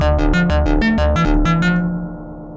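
Sampled synth bass with the mod wheel pushed high, playing a bouncy run of repeated low notes with bright, buzzy upper harmonics, then a final sustained note that rings out and fades, loud and alone.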